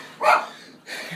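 Two loud, close dog barks split by a short pause, the second a little longer, with no voices over them.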